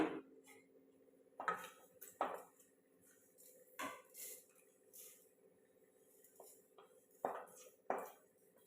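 Roasted dalia is scraped from a pan onto a plate, making a few sharp metallic clinks and scrapes with quiet gaps between them and no talking.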